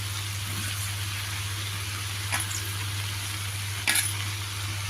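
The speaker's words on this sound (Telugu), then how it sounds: "ఇప్పుడు చిన్నగా కట్ చేసి పెట్టుకున్న గంగవల్లి కూర ఇది కూడా ఇందులో వేసుకుని మిక్స్ చేసుకుని బాగా మగ్గించుకోవాలి." Chopped gangavalli greens frying with tomatoes in a pan, a steady soft sizzle with occasional stirring scrapes and a low background hum.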